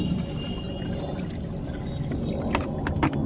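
Water being poured onto garden soil to moisten it while watering radish seeds in winter, a steady soft splashing and trickling close by, with a few brighter splashes toward the end.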